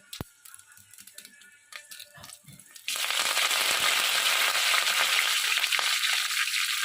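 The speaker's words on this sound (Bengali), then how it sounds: "তেলটা এখন গরম হয়ে গেছে এখন আমি এতে মেথি ফোড়ন দেব সর্ষেটা ফোড়ন দেব আর কারি পাতাটাও ফোড়ন দেবো" Faint clicks and taps give way abruptly to a loud, sustained sputtering crackle as fenugreek, mustard seeds and curry leaves hit hot oil for a tempering in a Bengali-style egg curry.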